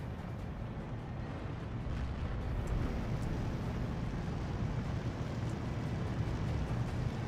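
Artillery fire rumbles in the World War II strategy game Steel Division II, a dense, low, continuous roar of distant shelling and booms that barely varies over several seconds.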